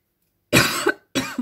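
Two harsh coughs close by, a longer one followed by a shorter one after a brief pause.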